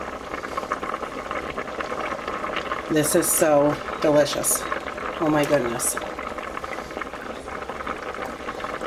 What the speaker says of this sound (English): we're just going to drop it into the boiling soup